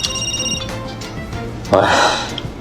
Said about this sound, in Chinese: 此时突然接到了一通电话